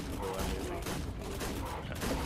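Revolver gunfire in the video game ARK: Aberration, a dense, continuous rattle of shots that blurs into steady noise, with someone talking over it.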